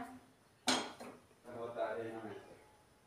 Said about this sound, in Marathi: आपण हे कढई ठेवूया.